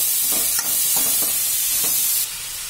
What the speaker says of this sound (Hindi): अब हम इसमें गोभी डाल देंगे। अच्छे से मिक्स कर लेंगे।